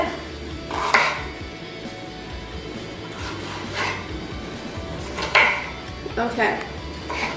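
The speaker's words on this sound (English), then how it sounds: "I'm gonna start cutting the green peppers into cubes" A knife chops green peppers into cubes on a cutting board, giving scattered, irregular taps and thuds at close range over a low room murmur.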